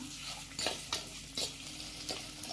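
Garlic sautéing in oil for a brinjal curry sizzles steadily in a pan, with a few soft stirring scrapes recurring at a gentle rhythm, close and fairly quiet with no talking.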